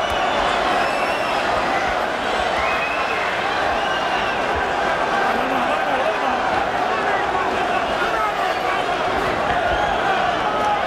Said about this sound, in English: Listen to the crowd here at Madison Square Garden